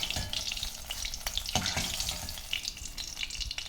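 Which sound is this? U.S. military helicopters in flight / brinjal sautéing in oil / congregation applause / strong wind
brinjal sautéing in oil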